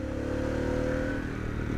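A Harley-Davidson Pan America motorcycle engine runs steadily, its hum rising slightly as it accelerates, heard close and moderately loud.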